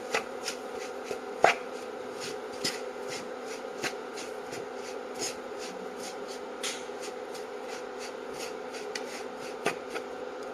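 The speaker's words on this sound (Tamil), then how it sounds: "இந்த அவிச்ச மாவு வந்து நம்ம எடுத்து அப்படியே அந்த நெய்யில் போட்டு நல்லா வறுத்துடலாம்." Steamed millet flour roasts in ghee in a pan, giving a steady gritty scraping and rustling with frequent short stirring clicks, moderately quiet and continuous.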